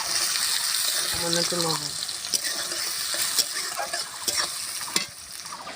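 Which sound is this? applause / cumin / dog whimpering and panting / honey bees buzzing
cumin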